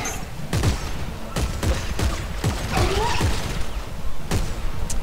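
Rapid gunfire in Dead Space 3, shooting at a creature's legs: a string of sharp, close shots in an uneven rhythm over a rumbling background, with no talk.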